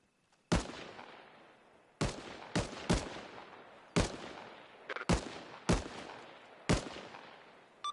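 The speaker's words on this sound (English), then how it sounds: "Those friendly shots." Video game gunfire in Gogland Operations: eight or so sharp, loud single shots spaced irregularly across the stretch, each with a short decaying tail, over near silence with no talk.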